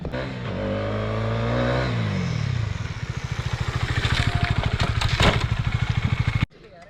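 Stock 250 motorcycle engine revving hard during a stoppie, rising to a loud high-pitched roar before dropping into a rapid pulsing exhaust beat as the bike brakes, then cutting off abruptly near the end.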